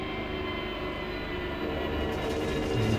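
Porsche 911 GT3 R race car engine held at full throttle at Spa in Assetto Corsa Competizione, a steady loud broadband drone that swells slightly near the end, with no talk over it.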